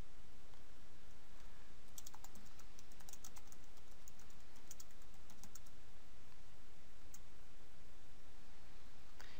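Quick, light key clicks from a computer keyboard come in short bursts of typing, close and quiet over a faint steady background hiss, with no talking.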